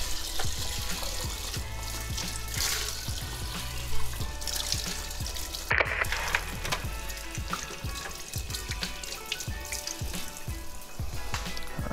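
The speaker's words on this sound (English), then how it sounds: "Give them a quick rinse." Crappie fish from an ice-fishing catch being rinsed under running water, a steady splashing and trickling stream that continues throughout with occasional handling clatter and no talk.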